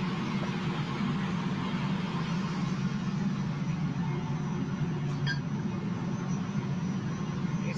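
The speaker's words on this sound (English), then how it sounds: "This is the fan for the ventilation system." A ventilation fan at a fluorspar mine drones steadily, a constant low, broad roar with no breaks, heard from some distance and fairly faint.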